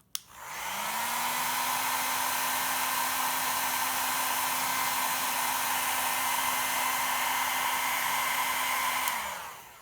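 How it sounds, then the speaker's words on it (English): A hair dryer blows steadily at close range to warm an area, switching on with a click and running at an even, loud whoosh with a constant hum before cutting off near the end; no one speaks. "I'm gonna use the hairdryer to warm the area until I feel a little zap"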